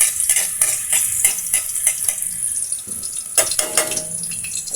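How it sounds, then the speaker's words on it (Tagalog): Ginger being sautéed for ginataang isda, a Filipino fish dish in coconut milk, gives a bright steady hiss with repeated utensil scrapes and clinks against the pan, fairly loud and close. "Gigisa lang natin ito ng maigi."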